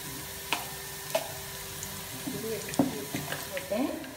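Shallots fry in a pan, giving a soft, uneven sizzle with a few clinks and stirring knocks, fairly quiet and close.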